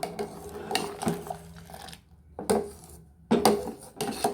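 A utensil scraping and clinking against a metal pot in short bursts, with pauses between strokes as betel leaf payasam with milk and sugar is mixed.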